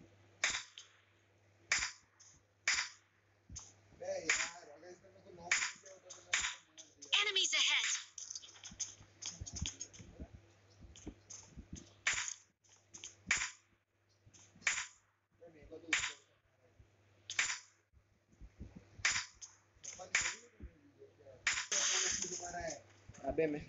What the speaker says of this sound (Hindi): अबे मैं गोली चला रहा था